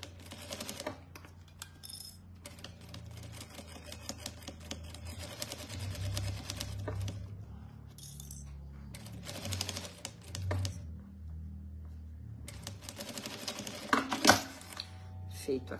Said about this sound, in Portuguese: vou fazer uma costura, tá? Com uma margem de meio centímetro.